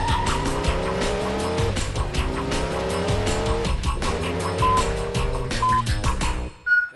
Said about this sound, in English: There's a number on the side of this car. It's gonna race by 3 times.